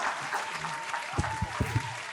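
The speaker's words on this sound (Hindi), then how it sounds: "जोरदार तालियां हो प्रतीक गुप्ता जी के लिए।" Audience applause at a Hindi poetry recital stage event, moderate and somewhat distant clapping with a few sharper thumps and faint voices mixed in.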